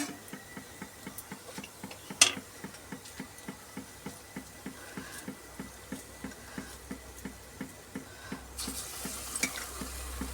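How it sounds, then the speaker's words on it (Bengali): Red lentil fritters (piyaji) deep fry in hot oil with a soft, continuous bubbling sizzle, punctuated by a regular series of small crackling ticks and an occasional sharper clink. "এইভাবে বড়াগুলো ভেজে তুলে নিচ্ছি। দেখুন আওয়াজটা শুনেই বুঝতে পারছেন কতটা মুচমুচে হয়েছে।"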